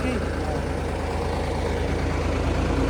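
A tractor engine idles steadily in a paddy field, a continuous low, heavy rumble with a constant drone and no breaks, loud and close throughout.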